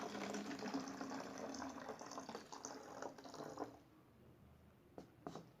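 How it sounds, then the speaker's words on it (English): Normal tap water pours into a plastic bottle for a simple science activity, a steady close gurgling flow that stops partway through, followed by a few faint clinks and handling sounds. "and then fill normal water."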